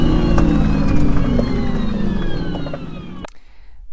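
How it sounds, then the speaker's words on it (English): Electric expedition car emits a pedestrian warning tone, faint rising and falling whine over steady rumbling road noise, cutting off abruptly near the end. "We do make some future noise, but that's to warn people and also animals that we are driving by."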